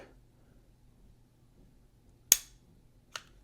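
A modified SIG P320 pistol being reassembled gives two sharp, close mechanical clicks about a second apart, after a quiet stretch with faint background rumble.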